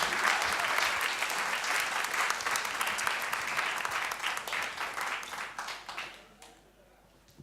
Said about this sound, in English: One more big hand of applause for Marta.